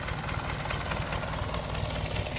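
A Thai longtail boat engine idles in a steady low rumble, close by and constant, with no speech over the throbbing drone.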